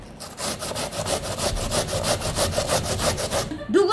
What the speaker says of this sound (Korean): 벌써 그 강판에 가는 소리가 들려요